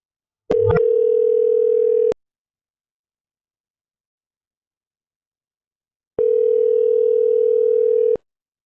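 A telephone ringback tone sounds twice on a call that goes on to voicemail, each ring a steady loud electronic hum about two seconds long, separated by a long silent pause.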